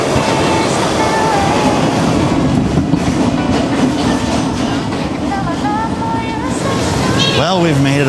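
A New York City subway train on the 2/3 line rides through an underground tunnel, a loud steady rumble with rattling wheels and squealing, continuous and close from inside the car.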